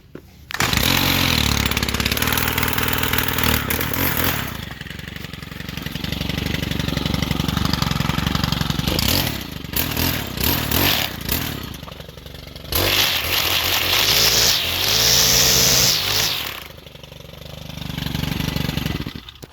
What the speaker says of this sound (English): That is a very powerful weed eater